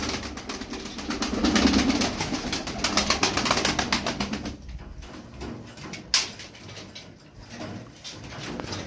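Pigeons coo in a loft of fancy breeding birds, with soft repeated cooing and rustling in the first half, then a quieter stretch with a faint sharp knock near the end.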